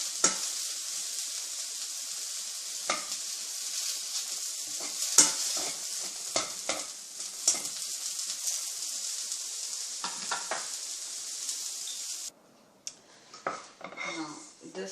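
Onions fry and caramelise in a pan, a steady bright sizzle broken by repeated scrapes and clinks of a spoon stirring; near the end the sizzle drops away, leaving a few clatters.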